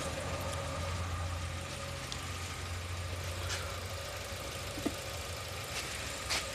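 A Chevy Aveo engine, just fitted with new spark plugs after a P0300 misfire, runs at a steady idle with a low hum and faint ticks, fairly quiet.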